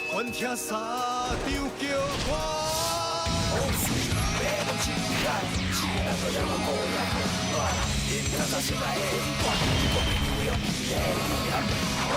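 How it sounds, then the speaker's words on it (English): A busy song mixed with layered foley effects, crashes, whacks and shouted voices over dense music, loud and continuous throughout. "you kind of need those Foley effects to be heard"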